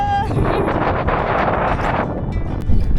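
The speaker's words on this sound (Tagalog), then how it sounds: "Super lakas ng hangin." Strong wind roars and buffets the microphone on Mt. Pico de Loro in Cavite, Philippines, in a loud, steady rush that lasts throughout.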